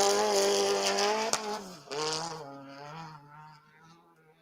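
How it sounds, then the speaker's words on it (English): Unlimited-class off-road race cars at a desert championship in Barstow, California roar past one after another, engines loud and close then fading into the distance. "Then it sounds like our 5 unlimited cars coming"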